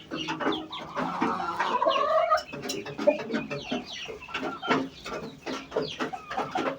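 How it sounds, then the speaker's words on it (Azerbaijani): Young turkeys just past the chick stage cluck and chirp in a busy, overlapping chorus of short calls, close by and fairly loud, with no talk. "Bunlar cücə deyil də, bunlar cücəliyi çıxdı bu indişkalar."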